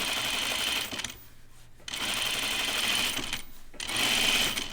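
A sewing machine understitches a chiffon dress in rapid, even whirring bursts, close up, with two brief pauses between runs of stitching.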